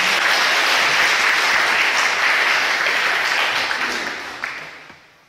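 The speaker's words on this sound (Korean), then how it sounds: "큰 박수 부탁드립니다." Academic conference audience gives a speaker a round of loud, dense applause that holds steady for about four seconds, then fades away with a few last claps.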